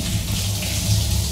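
A shower runs steadily in the Outlast 2 video game, giving a close, continuous hiss of spraying water with no talking.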